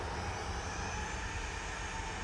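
A Jet2 Boeing 737-800 departs Manchester Airport, its engines a steady broadband roar held at even loudness throughout, close and unbroken, with no voices.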